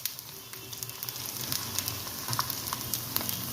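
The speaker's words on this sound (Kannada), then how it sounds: "ಹಿಂಗೆ ಚಟಪಟನತ್ತಿ ಒಳಗಿಂದ ಇದು ಬೇಯಬೇಕು ಚೆನ್ನಾಗಿ" Sabudana snacks fry in hot oil with a steady, close sizzle and scattered sharp pops and crackles, continuous with no talking.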